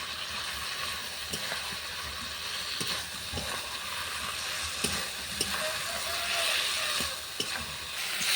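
Okra, fried potato and shrimp stirred into a spice paste in a hot pan, with a steady sizzle of frying throughout and occasional scraping knocks of the spoon, close by.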